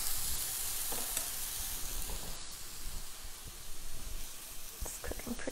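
Salmon burgers sizzle and fry in a hot pan as a steady, loud, close hiss that runs throughout, with faint taps and a quiet voice now and then underneath.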